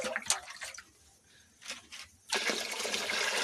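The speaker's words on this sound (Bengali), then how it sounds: "অল্প পরিমাণে জল দিয়ে দিচ্ছি" A little water is poured and splashed while leaf pitha is made over a wood stove with sal leaves and rice flour, giving brief trickles and drips followed by a louder, steady rushing pour.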